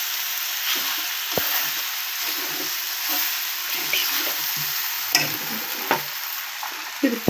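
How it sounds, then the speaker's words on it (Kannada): Cooked pasta is stirred and tossed in a frying pan over a steady hiss of frying, with a spoon scraping and clacking against the pan at irregular intervals, close up and with no talking. "ಹಿಂಗೆ ಈ ಥರ ಬೇಯಿಸ್ಕೊಂಡಿರೋ ಪಾಸ್ತಾ ಹಾಕ್ಕೊಂಡು ನೀಟಾಗಿ ಫುಲ್ಲು ಸುತ್ತ ಕಲಿಸ್ಕೊಳ್ಳಿ"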